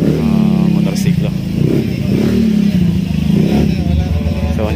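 Motorcycles move through a very narrow street, their mid-pitched engines puttering and revving close by under steady talking.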